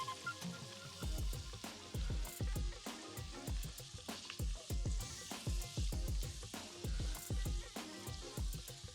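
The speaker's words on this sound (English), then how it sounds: "Add in the diced onions." Diced onions fry in a Dutch oven on the stovetop, with a crackling sizzle and repeated low thumps and stirring knocks, quiet and close with no talking.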